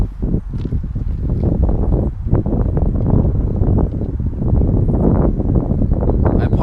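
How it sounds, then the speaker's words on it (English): Strong wind buffets an outdoor microphone in a continuous loud rumble, gusting unevenly while a 2016 Ford Taurus SHO sits parked nearby. "I apologize for the wind."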